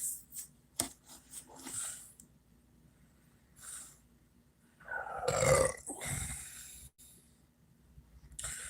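A man lets out a long, deep, guttural burp with a rasping, growling quality, near the microphone. Scattered clicks, breaths and short noises come before and after it.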